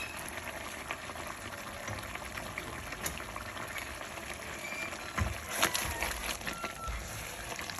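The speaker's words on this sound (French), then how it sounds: "On va laisser encore mijoter 2 minutes et c'est parfait." Sauce for chicken DG, thick and well colored, simmers in a pot with a steady low bubbling hiss, occasional soft pops and a brief louder stir near the end, with no voice over it.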